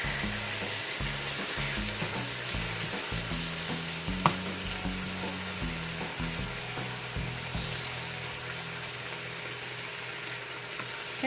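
Thin slices of pork tocino fry in a pan with a steady, close sizzle, soft crackles and an occasional sharp pop, heard alone without talk.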